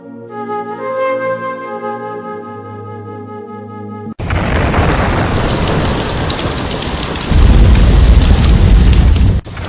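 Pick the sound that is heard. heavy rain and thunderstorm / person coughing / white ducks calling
heavy rain and thunderstorm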